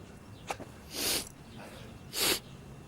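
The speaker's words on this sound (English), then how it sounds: "And a sniff." Sniffing outdoors by the Kremlin in Moscow, with a short click followed by two breathy nasal inhalations about a second apart, close and fairly soft over a quiet background.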